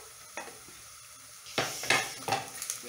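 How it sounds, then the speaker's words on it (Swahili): Onions, garlic and ginger frying in a pan while being stirred, a close sizzle broken by several sharp scraping and clinking spoon strokes against the pan, heard alone without talk. "Make sure you stir well."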